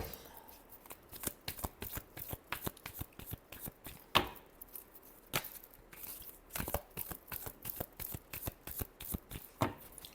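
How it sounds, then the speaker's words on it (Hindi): Tarot cards shuffled by hand in a steady run of crisp riffling slaps and flutters, close and fairly loud with no talking, ending in a sharp snap. "last shuffle"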